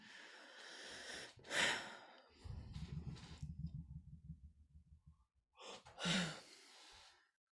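A person with multiple sclerosis breathes heavily and with effort, with deep gasping inhales and sighing exhales, plus a stretch of rough, fluttering breath in the middle, close and otherwise quiet.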